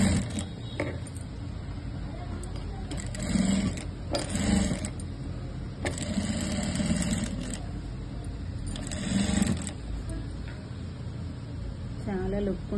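A sewing machine stitches inner piping onto a blouse, its motor whirring in several short runs of a second or two, with someone talking between and over them.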